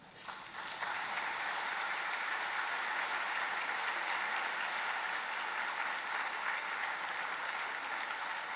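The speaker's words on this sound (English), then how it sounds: "Please stand up and a big round of applause." A graduation ceremony audience for the Faculty of Business and Law breaks into sustained applause, a continuous, even roar of many hands clapping that starts quickly and holds steady at a moderate distance.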